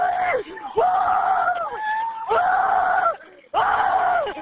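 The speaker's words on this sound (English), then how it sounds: "Why are you screaming like that?" A person screams in long, repeated, strained wails during a fatal police bodycam incident in Fort Collins, with three or four loud sustained cries broken by short gaps, close and raw.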